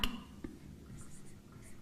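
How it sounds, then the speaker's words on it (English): A marker squeaks faintly across a board in a few short strokes after an initial tap, in a quiet room. "let me write in different colors so you see"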